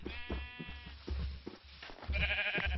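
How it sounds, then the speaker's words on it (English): Several short wavering sheep bleats from Minecraft with the Better Than Wolves mod, spaced irregularly and fairly close, with no talk over them. "Ooh, and a sheep too."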